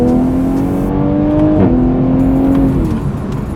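A 2020 Toyota Supra's engine pulls hard under acceleration, its steady rising drone dipping briefly at a gear change before climbing again, loud and close from inside the car.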